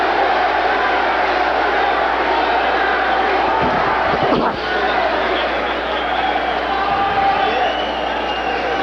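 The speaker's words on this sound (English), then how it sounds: "The crowd reacting to Holmes, chanting Larry, Larry." Boxing arena crowd at a Larry Holmes title fight chanting his name, a dense, loud, sustained roar filling the whole stretch with rhythmic swells.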